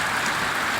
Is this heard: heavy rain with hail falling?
yes